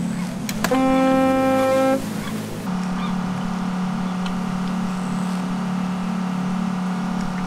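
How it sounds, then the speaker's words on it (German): A ship horn in the rescue-boat game Seenotretter Simulator gives one loud, sustained attention blast of just over a second. Afterwards the boat's engine keeps up a steady, droning hum. "Jetzt einmal für Achtung hupen."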